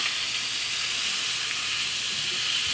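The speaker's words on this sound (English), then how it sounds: "onions, and we're gonna saute them all up" Onions saute in hot oil in a soup pot, giving a steady, bright hiss and sizzle that stays fairly quiet and constant, with no voices.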